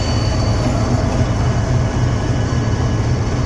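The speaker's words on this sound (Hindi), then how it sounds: "मालगाड़ी का लोकोमोटिव GU 9038 इस वक्त निकल कर आ रहा है डिटैच होकर मालगाड़ी से जम्पीर रेलवे स्टेशन पर" Locomotive GU 9038, detached from a goods train, moves out at Jhimpir railway station, a loud steady rumble and engine drone close by.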